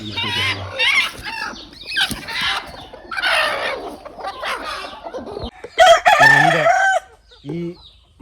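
Free-range country chickens cluck and squawk close by in bursts, with a loud rooster-like call near the end and short quiet gaps between.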